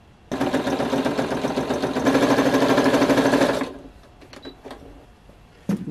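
A sewing machine runs steadily, stitching along the bottom edge of a jacket and topstitching, its fast loud whir lasting about three seconds before stopping, followed by quieter handling noises and a couple of sharp clicks.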